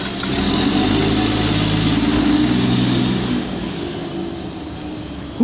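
An old garbage truck's engine runs close by with a loud, steady mid-pitched rumble for several seconds, easing off toward the end.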